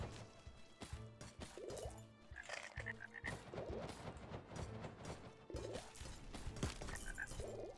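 Frogs croak in a video game, rapid ribbits repeating among dense game music and effects that play without pause, with croaks surfacing in short bursts rather than standing alone.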